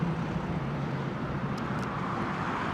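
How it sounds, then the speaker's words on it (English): A fighter jet passes close overhead near London Heathrow's runway 27L arrival path as a loud, steady broadband roar that holds at full strength throughout. "Fighter jet noise."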